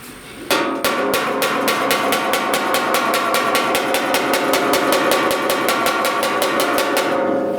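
Rapid, steady light pick hammer taps on a 1969 Chevrolet C10 sheet metal fender, dozens of quick ringing strikes in an even rhythm, close and fairly loud.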